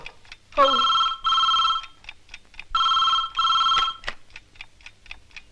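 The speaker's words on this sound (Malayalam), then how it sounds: "ഇതേതാ ഇപ്പൊ ഒരു ഫോൺ" An old telephone bell rings in two long bursts, pausing between them, with ticking clicks around it in a quiet room.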